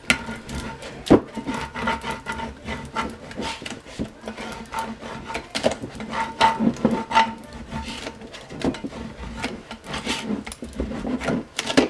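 A plastic scraper is dragged firmly back and forth over adhesive vinyl, making a close, continuous rubbing rasp in quick repeated strokes.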